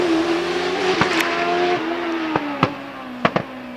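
An Empire 00 single-seater racing car in the 600–1100 cc class accelerates hard up the Prescott hillclimb, its high engine note rising through gears with sharp upshift breaks and crackling pops, loud and close.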